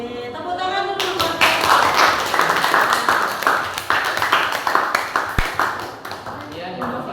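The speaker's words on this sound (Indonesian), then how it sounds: "Tepuk tangan dulu." Audience clapping follows a classroom biology presentation, a loose burst of hands clapping that rises, holds unevenly, then thins out, with voices talking over and around it.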